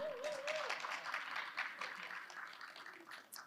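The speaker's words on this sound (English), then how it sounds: "Auntie would like to give Lyndon a clap." An audience at a university community partnership talk claps in a soft, distant wash, with a voice briefly heard over the start.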